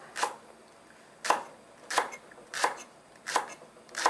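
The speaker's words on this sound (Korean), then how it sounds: "파도 썰을 건데요." A knife chops green onion on a cutting board for Korean doenjang stew, six crisp separate strokes spaced at an irregular pace, clear and close, with no talking.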